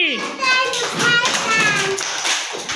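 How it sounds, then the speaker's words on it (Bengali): Children in a pre-primary classroom letter game clap together for a classmate, a short burst of brisk, uneven hand claps layered with young voices chattering and a teacher speaking. "সাইফানের জন্য জোরে একটা হাততালি"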